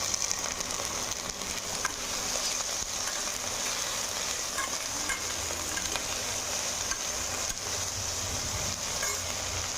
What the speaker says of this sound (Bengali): ঢেঁড়সগুলো আমি ছেড়ে দিয়েছি।